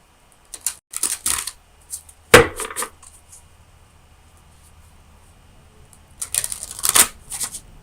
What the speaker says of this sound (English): let me get you a card from the Oracle of Visions